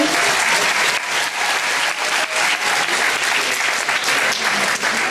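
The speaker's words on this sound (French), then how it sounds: "On va les applaudir encore une fois, cette prix prestation." A large crowd at a cosplay convention's group contest awards gives a loud, sustained round of dense applause for the prize winners, filling the hall steadily for about five seconds.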